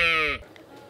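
A voice imitates a sheep, giving one short, nasal, wavering bleat up close, followed by near silence.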